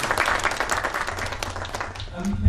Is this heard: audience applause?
yes